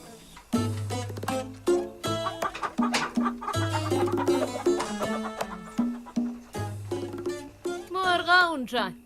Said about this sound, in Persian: مرغا اونجا